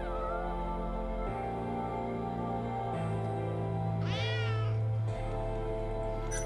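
A cat meows in the video game Judgment, one clear wavering meow rising then falling, heard over sustained droning game music.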